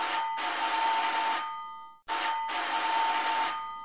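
A strident doorbell ringing through a sleeping house, two long shrill electric rings separated by a brief pause, loud and close, with no voices.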